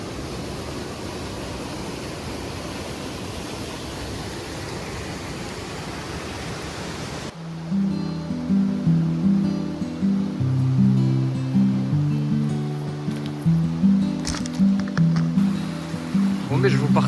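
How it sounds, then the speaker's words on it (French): A flowing stream rushes steadily and fairly loud for about seven seconds before music takes over and the water fades into the background. "je vous partage quelques images là de ce ruisseau qui est splendide"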